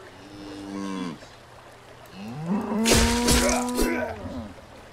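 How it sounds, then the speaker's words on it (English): A cow in the video game The Warhorn moos twice, a short low call followed by a longer, louder drawn-out moo, heard fairly close over faint game ambience. "I'm trying to kill that cow"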